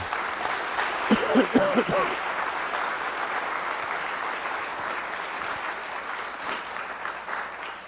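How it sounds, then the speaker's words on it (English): An audience applauds a speaker at the close of an entrepreneurship talk, steady mid-level clapping from a roomful of people that continues evenly throughout, with a brief murmur of voices early on. "Let's give you a round of applause"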